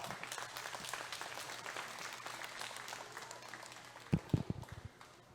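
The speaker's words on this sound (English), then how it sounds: "let's give them one more nice big round of applause" Audience applause at a junior fair steer show, steady scattered clapping from an indoor crowd throughout, ending in a few louder, closer claps near the end.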